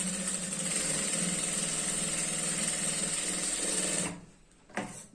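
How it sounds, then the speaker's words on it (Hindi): A sewing machine stitching the zip fly on a girl's skirt, a steady close mechanical whirr with rapid needle clatter for about four seconds, then stopping briefly with a short restart. "यहाँ पर हम इसकी सिलाई करेंगे इस तरह से"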